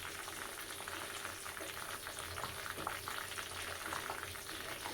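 Fenugreek seeds and black cumin roasting in oil with hibiscus flowers for homemade herbal hair oil, a faint, steady crackling sizzle throughout.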